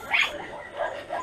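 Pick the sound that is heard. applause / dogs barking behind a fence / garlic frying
dogs barking behind a fence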